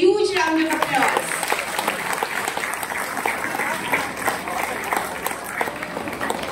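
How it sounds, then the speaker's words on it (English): An audience applauds dance competition performers, with sustained clapping from a crowd after a brief voice at the start, steady and moderately loud. "Please give them a huge round of applause."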